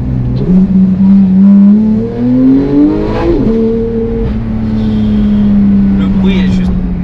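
A loud Porsche 911 GT3 (991.2) engine revs up, climbing in pitch, then holds a high, steady whine close by.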